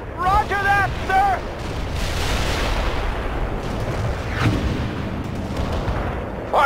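Artillery fire support in the strategy game World in Conflict, heard as deep rumbling booms and a continuous low roar of shelling beneath a voice over radio chatter.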